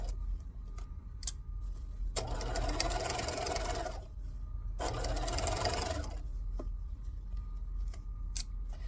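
A sewing machine stitches a fabric bag in two bursts of rapid whirring, each lasting a couple of seconds, separated by pauses with light clicks and handling noises.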